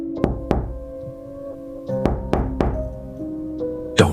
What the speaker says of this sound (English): hear a soft knock on your window